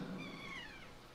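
Eerie, cat-like creature cry from the Forbidden Woods area of the Zelda Wind Waker video game, a single wavering tonal wail sliding downward, heard alone over a soft ambient background.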